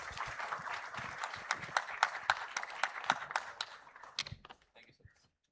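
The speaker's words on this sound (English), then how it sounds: "So the longest possible applause for this amazing audience panel" Audience applauding a panel at a governance plenary session, steady dense clapping with sharp individual claps that thins out and fades to silence near the end.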